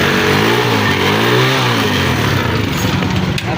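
A Honda CG 125 motorcycle engine runs steadily at close range after starting, a loud continuous mid-pitched drone that rises slightly in revs early on and settles into a rough idle without any talk.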